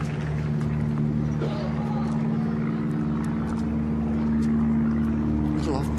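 A light propeller aircraft towing an advertising banner drones steadily over an outdoor tennis stadium in Miami. The low hum stays constant and fairly loud, with faint voices underneath.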